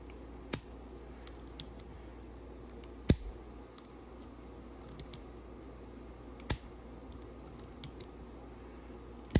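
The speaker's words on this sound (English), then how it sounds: "then this little click button here, the side click button" Several sharp, isolated clicks from the side click button of a Tactile Turn Side Click machined metal pen, spaced irregularly over quiet room tone with no talking.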